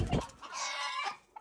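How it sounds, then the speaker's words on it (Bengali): Chickens cluck and squawk close by in a poultry enclosure, a burst of calls at the start and a longer throaty cackle running through the middle, ending with a brief sharp cluck. "চলো ভিতরে যা, আরো সুন্দর মুরগি দেখাই"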